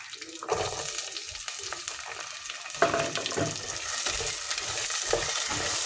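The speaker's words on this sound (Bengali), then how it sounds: "রসুনগুলো একটু হালকা ভাজা হইলে" Garlic fries in oil for beef pickle with a soft sizzle, while stirring scrapes and clatters against the pan come in uneven bursts.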